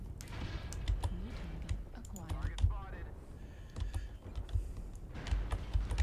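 Fast, clattering keystrokes on a computer keyboard come in irregular bursts during an online mech robot game session, close to the microphone, with voices talking intermittently over them.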